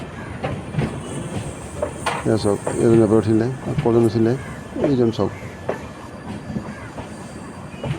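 A train gathers speed out of Guwahati railway station, its wheels squealing in repeated high, wavering tones over rumbling clatter, while people talk nearby.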